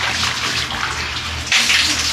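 Water gushes loudly and steadily from a faucet, growing stronger partway through as the tap opens further.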